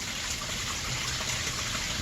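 A backyard pond waterfall with a built-in filter runs in early spring, giving a steady, close splashing and gushing of water that holds even for the whole stretch, with no talk over it.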